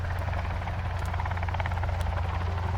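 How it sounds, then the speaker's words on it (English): Helicopter in the survival game Sons of the Forest, its rotor giving a steady, loud, continuous thrumming drone with rapid blade pulsing throughout, no speech over it. "You'll see now that when I move the chopper, the player moves with it."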